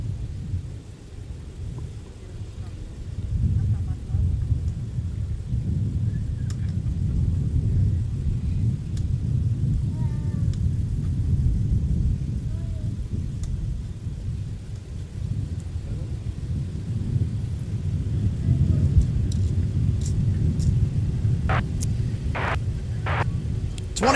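A jet aircraft takes off from runway 17 at MSP airport, producing a deep, steady rumble that swells slightly and holds from a distance for the whole stretch.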